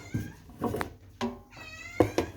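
Several house cats meow repeatedly indoors, a series of short, fairly close mews and cries following one another, without speech.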